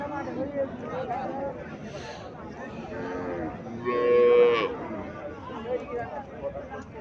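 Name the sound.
Sahiwal cow and calf at cattle market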